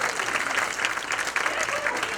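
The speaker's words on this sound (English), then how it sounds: "We're clapping for doulas." An audience claps for doulas at a Women's Equality Day event, a steady, moderately distant wash of applause with no break.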